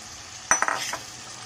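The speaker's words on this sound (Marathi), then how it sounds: "तर इथे आपल्याला आता भोपळा घालून घ्यायचा आहे।" Pumpkin pieces tipped into a pan of tomato masala that has softened and released its oil, with a quick cluster of clattering, stirring thumps and a light sizzle before the pan settles back to a low hiss.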